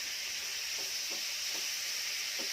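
Sliced cuttlefish hits a hot pan for a stir-fry with salted egg yolk, giving a steady loud sizzling hiss with soft periodic scraping strokes from stirring, and no talk.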